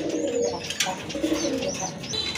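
A pair of racer pigeons coo steadily with throaty, rolling calls, close and clear, along with a few brighter chirps.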